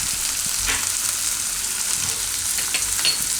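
A bowl of corn and paneer salad is tossed together with salt, chaat masala and pepper powder, giving a steady soft rustling hiss with a few light scraping stirs and no talking.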